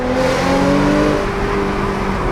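The engine of a 2018 Audi A7 with a resonator-delete exhaust drones loudly and steadily from inside the cabin around 4,000 RPM, holding a raspy tone with no voices over it.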